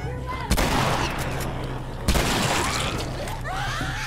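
Two sharp gunshot blasts in The Last of Us, one near the half-second mark and another around two seconds, each followed by a ringing decay, with game ambience and faint voices around them.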